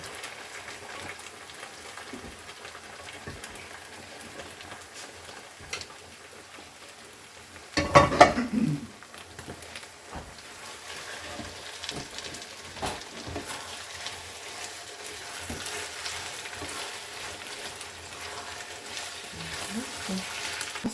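Steady sizzling of mushrooms frying in a pan with onion, with a brief louder scrape of stirring partway through and faint talk in the background.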